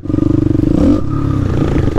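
A YCF pit bike fitted with a 190 Daytona engine revs hard close by, a loud, steady buzzing drone with rapid pulsing that rises slightly in pitch partway through, with no voices.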